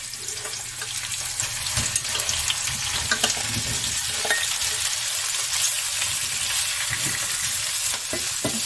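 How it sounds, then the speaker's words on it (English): Potatoes and onion frying in a pan, a continuous close sizzle broken by clicks and scrapes of stirring, with no talking. "Just gonna let them cook, let that onion cook down."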